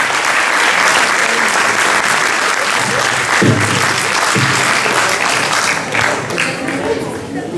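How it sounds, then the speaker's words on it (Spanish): An audience applauding at a piano recital, a loud dense round of clapping that carries through to the end, with a person speaking over it. "¡Fuerte palmas para él!"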